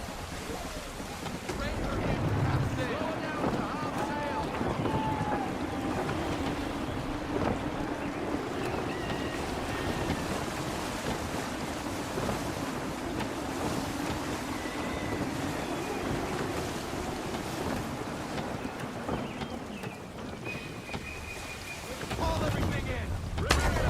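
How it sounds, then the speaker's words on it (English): Gusty wind roars steadily over the sea while a sailing ship creaks and cuts through waves in Assassin's Creed 3, a constant loud wash of wind and surf with voices talking over it. "Wind looks to be shifting. Stay alert, Connor. Gusty winds can be difficult to manage."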